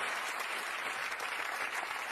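Dense, steady applause from a large television studio audience, loud and continuous throughout with no pauses.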